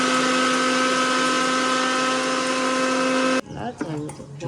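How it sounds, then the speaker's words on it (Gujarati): A mixer grinder whips Nescafe coffee into froth with a loud, steady high-pitched motor whine that runs unbroken for over three seconds, then cuts off abruptly. People talk right after it stops. "પણ મને એ ખબર નહીં પડતી કે આ મિક્સરમાં તું શું કરું છું?"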